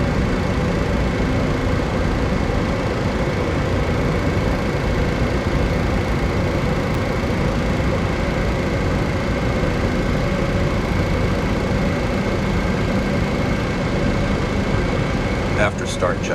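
Four-engine Boeing 707 jet engines spooled up and idling inside a flight simulator game, a steady loud broadband roar with constant tonal whine held throughout, ending with a few brief clicks.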